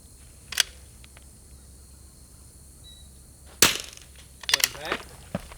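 Two sharp rimfire rifle reports crack out in quiet outdoor air at a PRS rimfire match, shooters firing from rocks; each short bang is followed by faint ringing, with scattered clicks and a brief metallic ping between.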